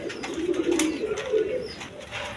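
Pigeons coo softly and repeatedly at close range, low throaty calls overlapping in a steady murmur with a little background noise.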